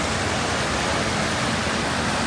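Overflowing river water near kilometer 5 of the Samarinda–Bontang toll road in Bontang, a steady, loud broadband rush with no break and no voices.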